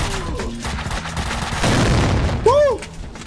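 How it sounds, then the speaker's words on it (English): Grenade blast and bursts of gunfire in the PC shooter Max Payne 2, a loud boom swelling over sustained firing, with people talking excitedly over the action. "Grenade!"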